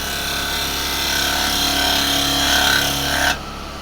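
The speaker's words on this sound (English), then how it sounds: "I'm just going to put a quick tenon on here." Wood lathe spinning a workpiece while a tenon is cut, a steady close whirring hum with scraping tool contact throughout that cuts off near the end, leaving only a faint motor drone.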